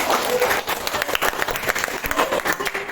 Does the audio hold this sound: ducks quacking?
no